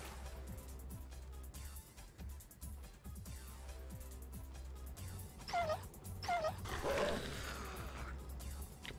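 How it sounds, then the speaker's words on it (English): Dogs barking and yipping in the real-time strategy game Mental Omega 3.3.5, a few sharp yelps rising over steady game music and battle noise during a 2v2 tournament match. "Couple of dogs there, chew on some spooks."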